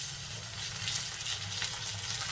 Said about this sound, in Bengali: এবার ওর মধ্যে দিয়ে দেবো টমেটো কুচি